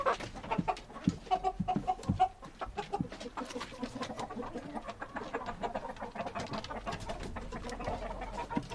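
Breeding hens cluck and chatter in repeated bursts close by, with other farm birds calling in the background throughout.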